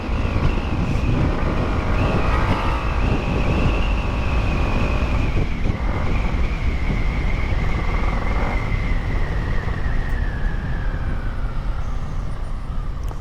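Strong, continuous wind roar buffets the microphone while riding fast on a quiet road during a Ramadan race, a steady loud rush with engine and road noise beneath it and no talking.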